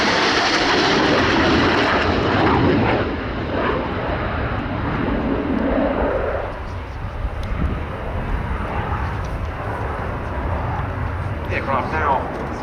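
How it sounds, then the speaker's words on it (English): A military jet roars through a flying display at a rainy airshow, its loud engine rushing and shifting in pitch as it banks, with a commentator's amplified voice talking over the noise throughout. "The aircraft now going into a maximum performance turn"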